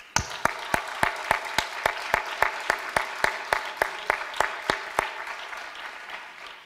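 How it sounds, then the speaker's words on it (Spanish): Hands clapping for a performer on stage: a steady, evenly paced series of about twenty sharp claps at roughly three per second, close and clear over a quiet room, fading slightly toward the end. "Para él el aplauso."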